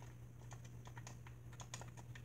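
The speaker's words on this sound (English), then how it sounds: "I'm playing on a Switch controller." Buttons on a Nintendo Switch controller clicking in quick irregular taps while playing Fortnite, faint and close over a low steady hum.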